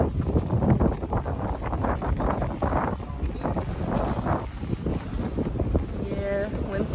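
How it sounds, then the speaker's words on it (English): Wind gusts roar across the microphone outdoors in Orlando as Hurricane Ian moves in, a continuous loud rushing buffet with uneven surges throughout. "Yeah, wind's starting to move in."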